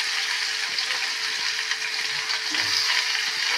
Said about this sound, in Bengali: এই তেলেতেই আমি পেঁপে আর আলু দিয়ে দিলাম, টমেটো আর দিয়ে দিলাম কাঁচা লঙ্কা